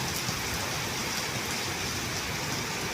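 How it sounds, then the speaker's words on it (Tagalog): Heavy rain pours down hard in a continuous dense hiss, with wind adding to the roar, loud and close with no letup throughout. "Ang ulan dito magagalit. Tumutunog,"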